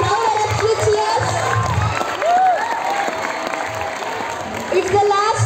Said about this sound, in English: The ladies continue and the crowd erupts with cheers.